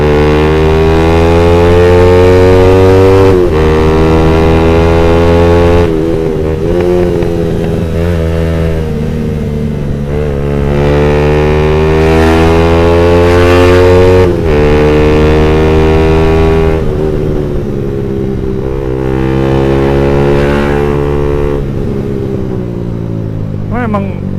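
A Suzuki Satria FU facelift motorcycle engine fitted with a PE26 carburetor idles with a deep, steady throb and is revved repeatedly, swelling and falling back, loud and close throughout.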